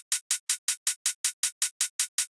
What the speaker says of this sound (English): and then I'm putting another closed hat right there.